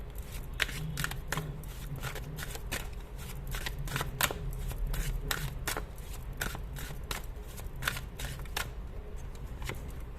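Tarot cards being shuffled and drawn from a deck, a steady run of close, crisp riffling and snapping clicks that repeat quickly and evenly, with no voices.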